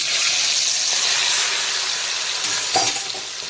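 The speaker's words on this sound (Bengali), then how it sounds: "এখন আমি ওল ভাজার তেলেই দিয়ে দেব লবণ, হলুদ আর কাঁচা সর্ষের তেল মাখানো বাগদা চিংড়ি।" Tiger prawns coated in salt, turmeric and raw mustard oil hit hot mustard oil, a loud bright sizzle that eases slightly, with a few stirring scrapes near the end, close and without speech.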